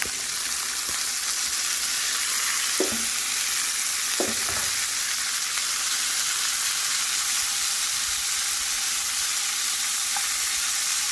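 Onions and mixed vegetables fry in a pan with a steady, loud sizzle throughout, broken by a couple of brief stirring scrapes near the start; no talking.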